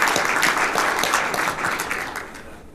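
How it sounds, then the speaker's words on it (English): A conference audience at the CloudStack Collaboration Conference claps for a sponsor, steady applause that gradually thins and fades toward the end. "So maybe let's give a round of applause to Shape Blue for sponsoring the CloudStack conference."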